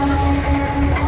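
A train standing at a crowded railway station gives off a steady low rumble with a constant engine hum, close and loud throughout, with no voices standing out.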